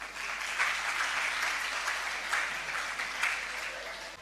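Steady applause from an audience at an Urdu Independence Day speech competition in Sindh, a broad continuous wash of clapping that holds its level throughout with slight swells, no voices over it.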